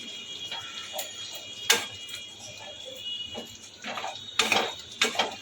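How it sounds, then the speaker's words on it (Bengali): A spoon or spatula stirs spice masala into chicken in a pan, with scattered metallic scrapes and clinks, some sharp and close, spread irregularly over a quiet background. "ভালো করে মিশিয়ে দেব মশলাটাকে এই মাংসের মধ্যে"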